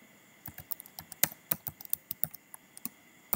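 Irregular bursts of clicky keystrokes on a computer keyboard, quiet and close, with uneven pauses between quick runs of typing.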